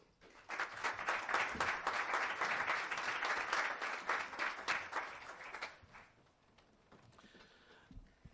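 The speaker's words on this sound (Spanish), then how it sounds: "Un aplauso para él." Applause from a modest audience at a book presentation in Spain, greeting a speaker; clapping starts after a quiet moment, holds steady for several seconds, then dies away into near silence.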